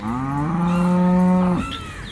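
A cow at a cattle market gives a single long, loud, close moo that holds steady and then drops off near the end. No one speaks.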